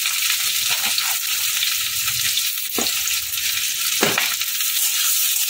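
Potatoes, onion, capsicum and chilies stir-frying over a high flame give a steady loud sizzle, broken by a few clattering stirs of the spatula in the pan.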